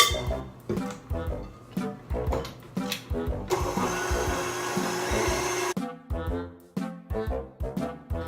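An electric mixer beats Swiss roll batter on medium, giving a steady, loud whirring burst of about two seconds between rhythmic, pulsing music.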